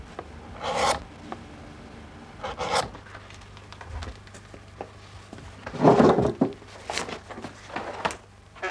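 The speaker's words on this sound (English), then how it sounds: "Once more, the chisel for skiving is used, again to achieve that close fit and finish." Chisel skiving leather for a saddle on a beechwood tree: short, sharp scraping strokes come in separate bursts, a few isolated then several clustered together, close and fairly quiet between strokes.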